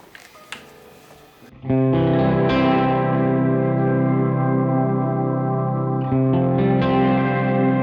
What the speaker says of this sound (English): This uses the one called slow verb, which has like pitch effects in it.